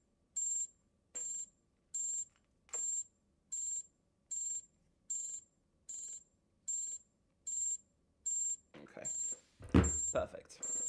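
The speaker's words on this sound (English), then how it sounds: "Oh, that alarm is awful." Alarm ringing in repeated short, high beeps at a regular pace, about a dozen bursts in a row, followed by louder handling noise and brief voice sounds at the end.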